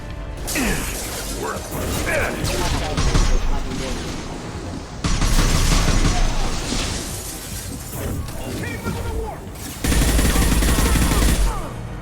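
Rapid gunfire rattles through a Mass Effect 2 combat scene, with sustained automatic bursts, mechanical clatter and shattering impacts in loud waves, while voices call out over the fighting.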